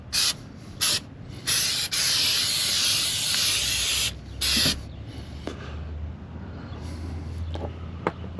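Spray coating applied under an RV slide-out in repeated loud hissing bursts, a long sustained spray in the middle, then softer, shorter spurts with faint rubbing and handling noise between them.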